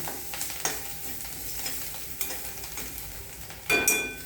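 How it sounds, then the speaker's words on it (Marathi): Spoon stirring masala with coriander and salt in a hot cooking pan, giving a continuous sizzle with repeated scraping strokes and a louder scrape near the end. "आता हे सगळं हलवून मिक्स करून घ्या."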